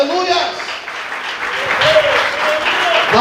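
A church congregation applauds during a sermon, a full, sustained burst of clapping with voices rising through it.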